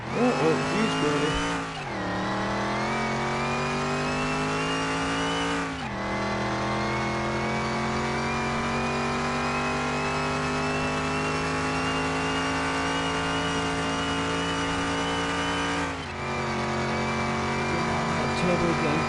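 A turbocharged race car in a PS4 racing game holds a loud, sustained high-rev engine whine, with the pitch dropping sharply at a few gear shifts before climbing again.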